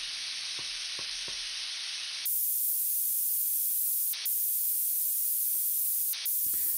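Noise generated by the Playbeat groove randomizer app from Audiomodern on an iPad: a few faint clicks, then a loud, steady white-noise hiss that drops out briefly twice.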